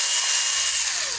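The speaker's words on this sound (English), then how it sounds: "see how easy that drills through because it's soft?" A power drill bores through soft pine wood for a holiday Christmas bow craft, a steady, loud, hissing whir that holds evenly and eases off slightly at the end.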